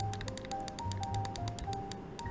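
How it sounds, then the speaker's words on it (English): Rapid, evenly spaced sharp clicks of the front side button on a Gwolves Hati S Classic Edition gaming mouse repeat close up, a steady run of small plastic taps with faint tonal hum underneath. "front mouse click"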